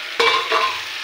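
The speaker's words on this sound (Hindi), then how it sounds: "और इसको धीरे धीरे पकाऊंगी, अब इसमें ये डाल दूंगी आलू मटर।" Potatoes and peas drop into a hot pan for a mixed dal and karela sabji, giving a sudden sizzle with a scrape of stirring that swells again briefly and then settles into a steady fry.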